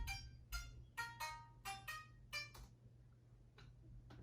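A twangy, banjo-like plucked melody in a sad emo-trap beat, a handful of bright picked notes in quick succession over a low hum, fairly faint and fading into sparse ticks.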